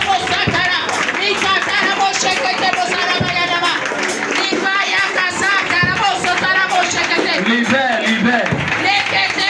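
A congregation at a prayer and deliverance service claps steadily and cheers, constant clapping mixed with loud voices of people crying out and praising throughout.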